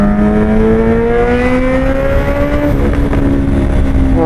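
Suzuki Hayabusa with a Penta Carbon exhaust riding past, a loud, close engine drone rising steadily in pitch, then shifting down with faint crackling pops under heavy wind roar.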